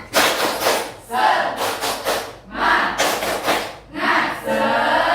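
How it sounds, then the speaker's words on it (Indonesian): Schoolchildren perform a rhythmic spirit clapping chant in a classroom: bursts of group clapping and shouted chanting alternate in roughly one-second pulses, loud and close, with young voices calling out together. "Oke, tepuk semangat."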